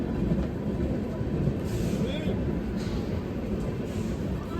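A train pulls into an Indian railway station with a steady low rumble and rolling rail noise, a faint squeal rising briefly over it, amid busy platform ambience with voices in the background.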